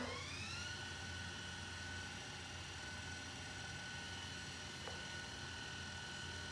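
MD500 model helicopter with its rotor spinning up steadily, a continuous whine holding over a constant motor hum from start to finish at moderate distance.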